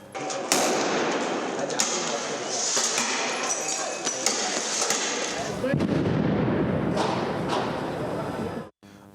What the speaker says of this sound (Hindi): इसराइली पुलिस की जानिब से फ़लस्तीनी मुजाहिरीन पर रबड़ की गोलियां बरसाई गई